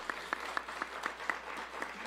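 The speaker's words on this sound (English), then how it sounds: "I'd like to give everyone a round of applause to our 8 candidates" Scattered applause from a small audience at a town select board candidate forum, faint and thin, with a handful of individual claps standing out at a quick, uneven pace.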